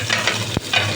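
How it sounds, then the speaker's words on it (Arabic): Minced garlic frying in ghee in a pan, a close steady sizzle with one sharp stir or scrape in the middle. "كده خلاص التومه اهي يا جماعه اتحمرت معايا"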